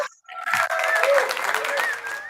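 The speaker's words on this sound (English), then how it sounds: "Let's give a round of applause to Nikhil" An audience at a business community open house bursts into applause for a speaker, a brief full round of clapping that starts abruptly and carries on with a voice talking over it.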